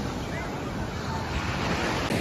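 Sea surf washing onto the beach at Tiruchendur temple, a continuous broad roar of waves mixed with heavy wind buffeting the microphone, steady and close.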